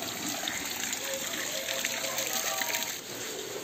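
Heavy rain pours steadily while water rushes and gushes through a flooded village lane, a dense continuous wash of noise throughout with no breaks and no talk.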